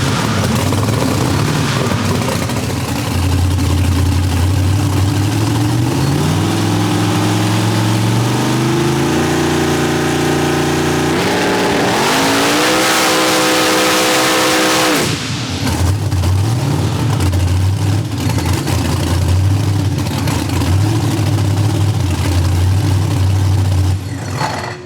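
A 3500+ HP SMX Jeep engine, strapped down in a backyard, revs hard and loud in rising, stepped pulls, peaks in a long high scream, then drops and settles into a heavy, rumbling rev for the rest.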